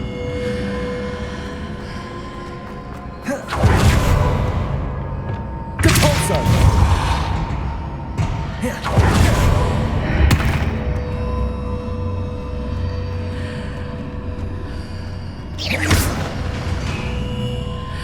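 A heavy stone block shoved by the Depulso spell in Hogwarts Legacy, with several loud grinding thumps and scraping bursts spaced seconds apart over a low mechanical rumble.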